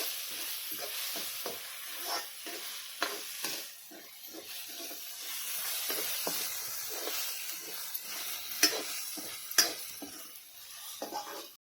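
Chopped onion and tomato sizzle and hiss in a hot pan, with soft stirring scrapes and occasional clinks of the spoon against the metal, moderately close and with no talking.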